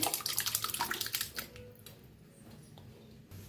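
Hot water splashes and pours loudly into thick cooked lentils at first with bubbling, choppy bursts, then settles into a softer, steady trickle and faint clinks.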